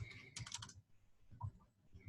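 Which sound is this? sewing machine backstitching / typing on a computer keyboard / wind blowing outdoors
typing on a computer keyboard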